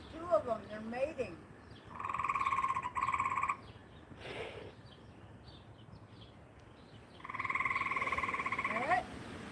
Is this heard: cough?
no